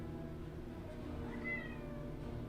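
A pet cat meows once in a drawn-out, rising and falling call, close and fairly loud over a steady low background hum, with no talking.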